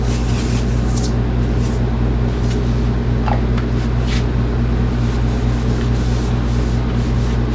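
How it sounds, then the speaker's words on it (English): A steady, loud hiss of glass cleaner spraying against a constant low mechanical hum, with a few faint rubbing squeaks mixed in. "A little spray away glass cleaner."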